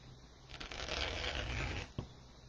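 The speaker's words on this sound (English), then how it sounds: "Okay, so I'm just going to cut a 10-inch piece." Scissors cut a 10-inch piece of deco mesh with a rough, crinkly rasping that lasts about a second and a half. A single sharp snip follows, all fairly quiet and close.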